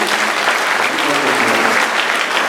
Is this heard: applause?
yes